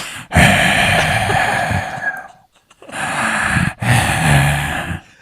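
A voice imitates heavy breathing: loud, raspy exhales with a brief pause, then two more long huffing breaths close to the microphone.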